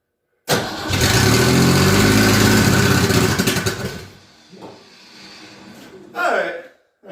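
An old Ford Ranchero engine cranks and catches, roaring loudly for a few seconds before dropping to a rougher, quieter idle, with a short louder rev near the end and some voices in the background.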